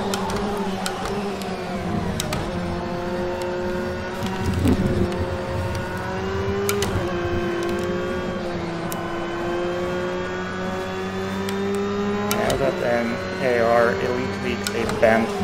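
Ferraris and a Porsche racing in a video game, with engine drones rising and falling in pitch as cars rev and shift, heard steadily beneath people talking throughout.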